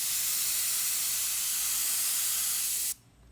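An airbrush sprays a steady, close, high-pitched hiss of air for about three seconds, cuts off briefly, then resumes.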